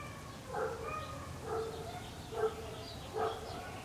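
A dog barks outdoors on a quiet day, four faint, distant, evenly spaced barks over soft background noise.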